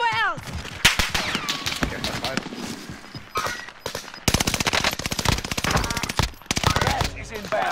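Rapid automatic gunfire in Call of Duty: Modern Warfare Resurgence, loud bursts of machine-gun fire that come in waves and grow denser toward the end, with excited players shouting over the shots.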